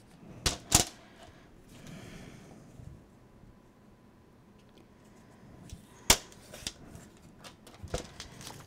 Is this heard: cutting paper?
yes